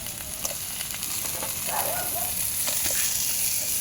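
Crab pieces for a Jaffna-style crab curry sauté in a hot pan with a steady close sizzle, joined by occasional scraping and stirring knocks, with no one talking.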